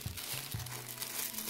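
A black plastic bag crinkles and rustles up close as it is handled while storing chili powder, a few sharp crumpling bursts followed by softer continuous rustling.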